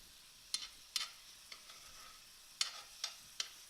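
Ground turkey breakfast patties cooking in a cast iron pan, a faint sizzle underneath a handful of sharp scraping and tapping clicks spaced irregularly, quiet and close with no voices.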